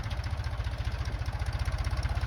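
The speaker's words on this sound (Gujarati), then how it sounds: "તો હાલે છે આપણું ટ્રેક્ટર." A tractor engine runs steadily in a muddy groundnut field during harvest, a low rhythmic diesel thump pulsing evenly throughout, close and continuous with no talk.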